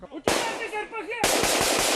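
A sharp gunshot cuts through a shouting voice, followed by a rapid burst of automatic gunfire, loud and close, at a military training range.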